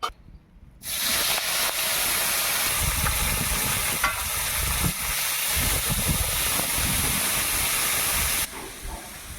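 Small puti fish hit hot oil in a pan, setting off a sudden loud, sustained sizzle and hiss that stays close and steady for several seconds before cutting off.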